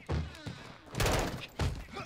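Gunfire in the Call of Duty Modern Warfare 2 campaign: three heavy, booming bursts of shots spaced about half a second to a second apart, loud and close, with a faint voice underneath.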